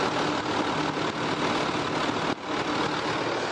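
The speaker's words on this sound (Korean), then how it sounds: "엔진 소음 먼저 들려드리면은" An imported SUV's replacement engine running steadily at idle, a constant loud broadband rumble with an even, unchanging drone throughout.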